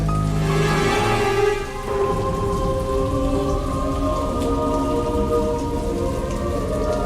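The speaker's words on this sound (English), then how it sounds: "It's only raining there." Steady heavy rain pattering on a surface nearby, continuous and loud, with a low rumble underneath and a brief dip in the noise early on.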